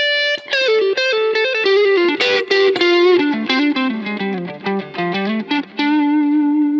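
Electric guitar picked with a plectrum through effects and mild distortion, playing a fast melodic line of sharply attacked notes, loud and close with no voices.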